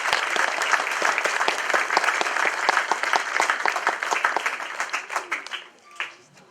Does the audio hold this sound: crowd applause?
yes